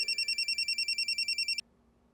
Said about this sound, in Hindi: ले घंटी जा रही